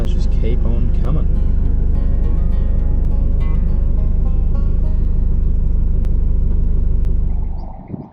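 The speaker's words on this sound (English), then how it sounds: "these cars just keep on coming" Steady stream of cars driving along the road at Wiley Bay near Esperance, a loud, continuous close rumble of engines and tyres that holds for several seconds before fading out abruptly at the end.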